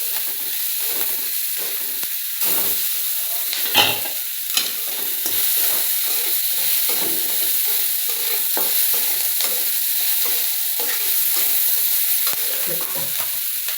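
A pan of food seasoned with salt fries and is stirred, giving a continuous close hiss of sizzling oil with occasional scraping and knocking of a utensil.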